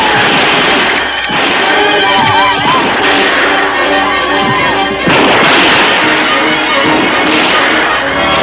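Gunfire rings out in a western movie battle scene: repeated loud bangs and booms buried in a dense, busy soundtrack that stays loud throughout.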